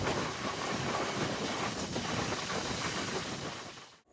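A Rajahmundry to Vijayawada MEMU passenger train, number 67201, runs near Vijayawada with a loud, steady rumble and wheel clatter heard from inside. The noise continues unbroken until it cuts off abruptly at the end.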